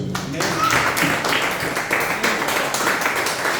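Applause fills a church service, a steady wash of many hands clapping that runs continuously for a few seconds with voices mixed in.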